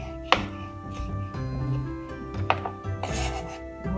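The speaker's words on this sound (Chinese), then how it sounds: "这个香菇我已经预先浸泡大概是1个钟头，我们把它切细" A knife chops soaked shiitake mushrooms into thin strips on a board, giving a few sharp, close knocks spaced irregularly, with softer scraping and handling sounds between them.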